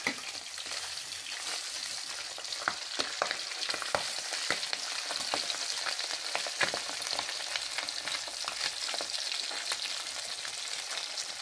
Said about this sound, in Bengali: তাই দু পিঠে আমি হালকা হালকা করে ভেজে নেব।